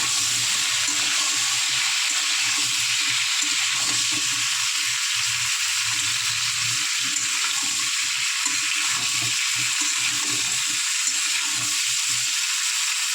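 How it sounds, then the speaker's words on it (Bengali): Slit pointed gourd (potol) pieces frying in a pan, a dense unbroken sizzle with a low bubbling undertone, steady and close throughout, no voices. "পটলগুলো ভেজে নেবো।"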